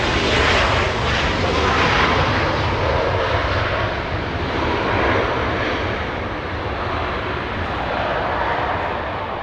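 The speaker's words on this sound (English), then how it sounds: "United Airlines 416 flying in from Houston, Texas. A 3-hour flight, MAX 9, 737 touching down right now." A United Airlines Boeing 737 MAX 9 touches down at Los Angeles International Airport, its engines producing a steady, broad roar that stays loud throughout with a slight swell and fade, heard without talk.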